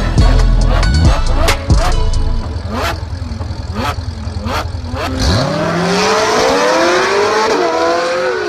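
A Ferrari 488 Spider sports car's V8 engine roars close and loud, blipping through rising revs before a long pull of accelerating, climbing tone as the car speeds away, with no voices.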